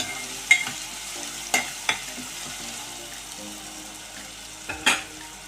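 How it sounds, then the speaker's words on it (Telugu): A paste of ginger, onion and coconut fries in a pan while being stirred, with a soft continuous sizzle broken by several distinct spatula scrapes and knocks. "ఒకసారి బాగా కలుపుతాము. పచ్చివాసన పోయిన దాకా బాగా యాగనిస్తాము."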